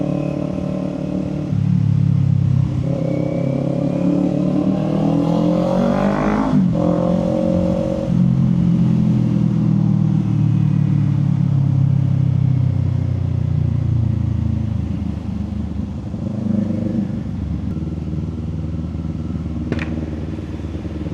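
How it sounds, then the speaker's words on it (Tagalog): A Kawasaki Eliminator 450 motorcycle engine rumbles and revs while riding in rain, the pitch rising and falling through gear changes, loud and continuous with no talking. "Gamit nating motor ngayon, Kawasaki Eliminator."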